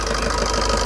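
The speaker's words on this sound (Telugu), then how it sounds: "ఇంజన్ యొక్క నాయిస్ పర్ఫెక్ట్గా ఉంది" A Maruti Suzuki Baleno Delta (2017/18) engine runs at a steady idle, a close, even mechanical hum and rattle with no pauses or revving, and no voices.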